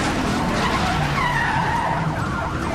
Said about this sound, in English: The shot sends the suspect skidding onto the shoulder